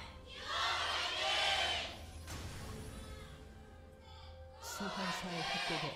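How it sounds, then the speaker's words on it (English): A crowd of esports fans cheers at a League of Legends match, SK Telecom T1 against KOO Tigers: a broad swell of distant cheering rises and fades, then returns, with a commentator talking over it. "Fans cheering on their teams."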